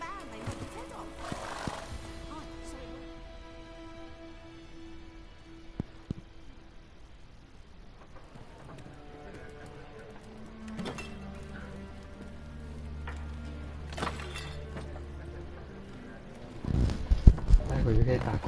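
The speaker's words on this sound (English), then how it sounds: "Whoa there, Roach." Roach the horse from The Witcher 3 neighs and whinnies, with clip-clop hooves and light rain-like patter in the game world, while a voice speaks over the sounds.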